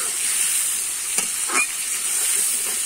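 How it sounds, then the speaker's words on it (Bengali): Prawns seasoned with salt and turmeric sizzle steadily in a hot pan, with a couple of brief stirring scrapes breaking the constant frying hiss. "দিয়ে আমি ভালো করে চিংড়ি মাছটা ভেজে নেব।"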